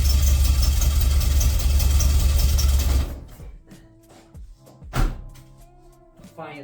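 A VW Polo engine running on motorbike carburettors idles loudly and roughly for about three seconds, then cuts off, leaving quiet thumps and someone speaking.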